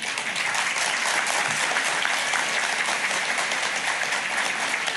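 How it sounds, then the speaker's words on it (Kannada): An audience at a talk claps loudly and continuously, dense steady applause filling the whole stretch without a break. "ಈ ಚಪ್ಪಾಳೆ ಸಾಲದಕ್ಕೆ"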